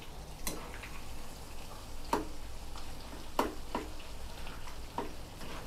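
Marinated pork frying in hot oil in a pan gives a steady, close sizzle with crackling hiss, broken by a few sharp ticks and pops spaced a second or so apart.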